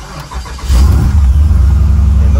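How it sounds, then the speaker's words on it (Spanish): An old Jeep Cherokee engine cranks briefly and catches, then settles into a loud, close, rough idle on a hot day. "Aquí voy a prender la carcanchita"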